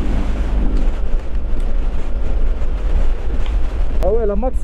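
Strong storm wind buffets a microphone on a moving motorbike, a loud continuous low roar with rushing gusts throughout, and a brief rising whine near the end.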